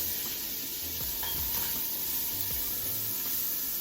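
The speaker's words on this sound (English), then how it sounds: "We're gonna put it in that hot oil." Diced onion, carrots and celery hitting hot oil, giving a steady, dense hiss of sizzling with a few soft low knocks from the pan underneath.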